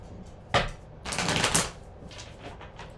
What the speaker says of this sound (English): Let's go ahead and do 2 more shuffles and we'll get started